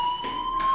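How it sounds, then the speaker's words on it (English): Fire alarm ringing in the video game Life Is Strange, a loud steady electronic tone holding through the short clip with no talk over it. "do you hear that fire alarm? That means you should be outside."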